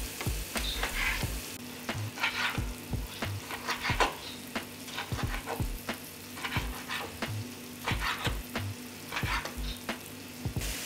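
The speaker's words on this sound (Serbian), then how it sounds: "Iseckano meso dodat ću u luk i šargarepu i nastaviti da prži." Chopped beef with onion and carrot fries in a pan, giving a steady close sizzle with repeated stirring scrapes and knocks at an irregular rhythm, and no talking.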